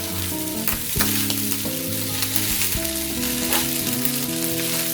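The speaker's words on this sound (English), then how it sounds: "So fry it for some time." Rice and vegetables frying in a pan for Nigerian fried rice, giving a steady close sizzle throughout with a tonal musical layer running over it.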